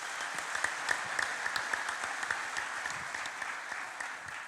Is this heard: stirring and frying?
no